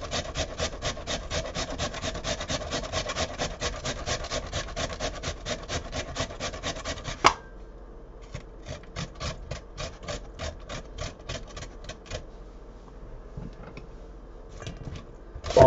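Potatoes are grated on a box grater in rapid, even rasping strokes, close and steady, then a pause and a slower, lighter run of strokes.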